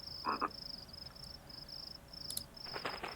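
Frog croaks from the video game The Visitor come in short paired bursts against a steady high insect-like trill, quiet and without talk.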